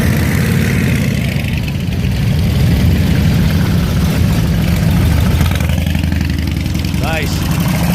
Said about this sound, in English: Look at these old bikes.